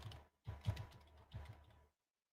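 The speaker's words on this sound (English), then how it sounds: "I'm going to type now." A few quick bursts of computer keyboard typing, soft clicky keystrokes in short clusters, close but quiet, then silence.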